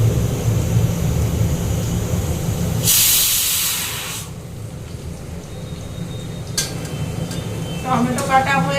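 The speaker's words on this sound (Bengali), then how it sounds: "আলুটাও ভাজা হচ্ছে" Potatoes fry in a pan in a home kitchen with a steady, close sizzling hiss. A louder, brief gush of spitting sits in the middle, and a voice speaks faintly now and then.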